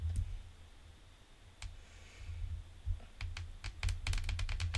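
Rapid Morse code tapping from the Dr. Stone anime, a run of sharp clicks that starts sparse and quickens into a dense burst over a low background hum.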